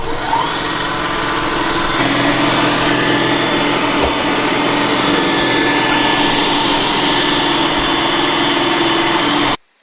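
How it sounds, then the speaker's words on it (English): A loud, steady motorized whir of a Roomba robot vacuum running continuously close by on a hardwood floor, with faint rattles, cutting off abruptly at the end. "So on hardwood floors, this robot is pretty loud"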